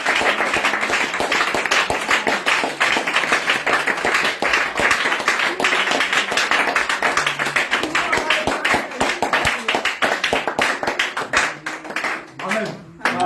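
A congregation at an evening prayer and teaching cell meeting in Yopougon claps steadily and densely in close rhythm, with voices rising loudly over the clapping throughout.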